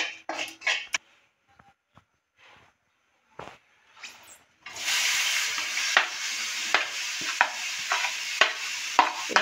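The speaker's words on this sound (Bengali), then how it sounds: "ঘিটা গলে গেলে এর ভিতরে আমি বিটের গ্রেট করা কুচিগুলো দিয়ে দেব।" Grated beetroot stirred into melted ghee in a pan, giving a steady frying sizzle with repeated stirring scrapes after a few scattered clinks and quiet handling sounds at the start.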